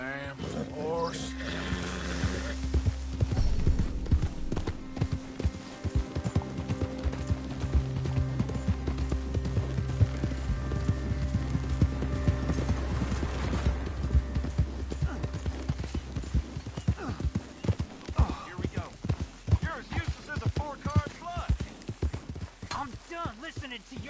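Horse hooves clip-clop in a steady walking rhythm in Red Dead Redemption 2, running close and moderately loud beneath a voice and a background game score.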